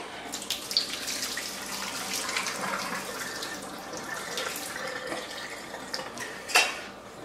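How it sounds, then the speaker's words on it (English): Canned tomatoes are drained of their water at a kitchen sink, with trickling water, clinking metal and a few sharp knocks of a can or pot, close and moderately loud, with no voices. "I'm going to drain my tomatoes."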